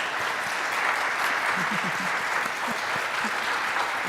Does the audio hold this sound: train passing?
no